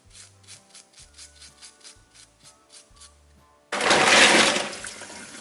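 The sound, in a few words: steel wool scrubbing mussel shells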